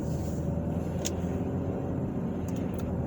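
Steady low road-traffic rumble on a weekend street in Carmel, Indiana, continuous and moderately distant, with a few brief high hissing bursts like air brakes; no talking.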